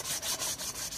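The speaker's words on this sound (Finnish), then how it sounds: "laitetaan vielä vähän hiomapaperia" Rhythmic back-and-forth rubbing of sandpaper on a 1992 Fiat Ducato brake drum, about five quick strokes, soft and close.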